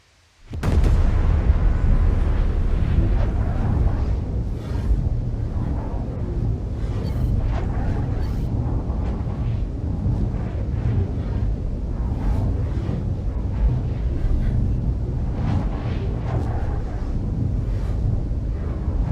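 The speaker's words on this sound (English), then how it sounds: "Passengers and mobilization starting. See, you hear the echo here because it's got both of them. Warp sequence initiated." A spaceship warp sequence sound effect kicks in abruptly as a loud, sustained, broad rumbling roar with echo, holding steady and close for nearly twenty seconds without talking.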